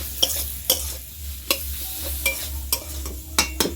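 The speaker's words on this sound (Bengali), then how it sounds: "কচুরলতিটা দেবো, মশলাটা ঢুকবে। কষে নিতে হবে, কষে নিয়ে" Taro stolons being sautéed with spices in a pan, giving a steady low sizzle punctuated by sharp scraping stirs roughly every second, close and fairly quiet with no talking.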